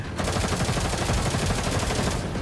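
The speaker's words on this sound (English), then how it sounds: "A ferocious wave of gunfire suddenly sweeps through the air." Dense, rapid gunfire in the video game Girls' Frontline 2 rattles continuously at close range, layered bursts of shots forming a loud, unbroken barrage with no talk.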